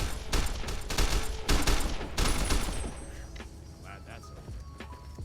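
Rapid bursts of gunfire crackle in Fallout New Vegas as NCR soldiers fight a ghoul trooper, loud overlapping volleys for about two seconds before thinning into scattered distant shots.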